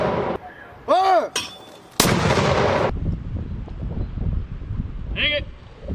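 Live-fire weapon shots during a U.S. Army paratrooper drill with Slovenian forces, a sharp loud blast with a long rumbling tail, and shouted voices before and after.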